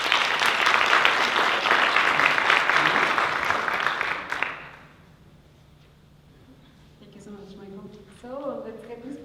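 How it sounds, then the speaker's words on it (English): Audience at a pitch competition breaks into loud applause that fades out after about four seconds, followed by a brief quiet and then a voice speaking. "let's give them a big round of applause for all their help."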